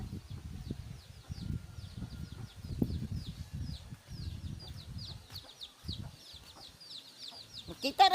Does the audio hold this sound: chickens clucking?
yes